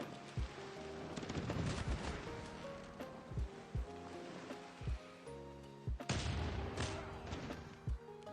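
Naval gunfire from ships in the strategy game Civilization VI: a sequence of sharp, booming shots at irregular intervals over a dense, busy game soundscape, with strongest blasts around the middle and later.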